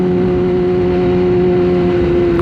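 A motorcycle engine drones steadily during a ride, with a loud, even hum and constant rumbling road and wind noise close to the microphone.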